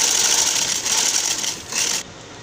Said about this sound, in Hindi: मैं पूरे पे इसी तरह से अपने सिलाई करती हुई चली जाऊँगी